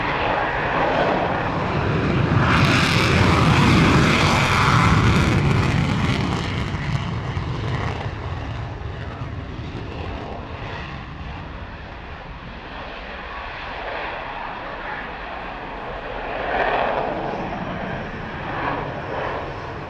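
A fixed-wing aircraft taking off at the Fairford airshow, a loud, close engine roar and rumble that swells to a peak early on, eases off, then surges again, filling the whole span.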